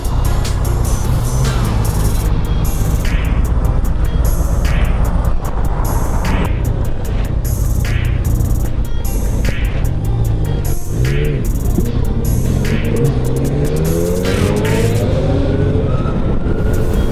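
A 2020 Zero SR/F electric motorcycle accelerates in sport mode under steady loud wind rush, with a rising and falling motor whine rather than engine noise throughout.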